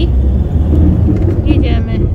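Cars driving past on a road near a camper van, a low rumbling engine and tyre roar that swells briefly, with a person speaking over it.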